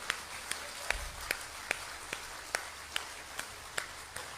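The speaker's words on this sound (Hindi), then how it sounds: "बजाओ ताली और आनंद लो" An audience claps hands together in slow, even unison, about two claps per second, moderately quiet and distant-sounding.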